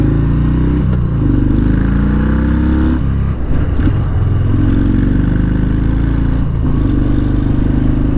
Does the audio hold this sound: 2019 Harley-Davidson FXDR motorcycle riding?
yes